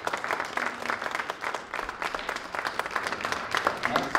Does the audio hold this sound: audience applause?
yes